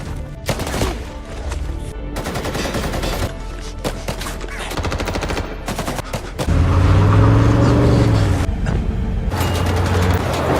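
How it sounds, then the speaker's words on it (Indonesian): Rapid bursts of gunfire during a film car chase, a cartel gunman shooting at a fleeing car from behind, loud rattling volleys and single cracks over a rising engine roar, with no speech. "Dia langsung mengejar Sean sembari menembakinya dari belakang."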